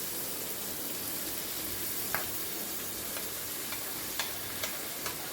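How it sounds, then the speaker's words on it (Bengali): Marinated masoor lentils added to hot oil with black cumin, a dense, even hiss of frying with a few sharp ticks and pops spaced across the sizzle. "এইবার আমি ম্যারিনেট করা ডালটা এর ভেতর দিয়ে দিচ্ছি"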